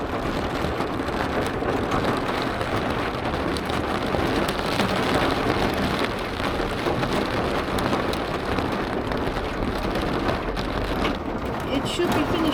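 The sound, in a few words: hail storm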